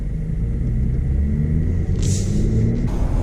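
A 2017 Mercedes GLE 350 4MATIC SUV driving in sport mode, heard from inside as a steady low engine rumble and road drone, with a brief chime-like tone near the end.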